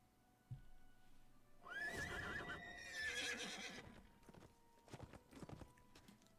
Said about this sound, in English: Horse. Come here.